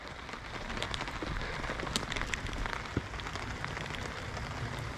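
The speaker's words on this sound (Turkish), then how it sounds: "Yağmur güzel güzel yağıyor." Rain falls steadily at a campsite, a dense even patter with scattered individual drops ticking sharply on nearby surfaces, no voices present.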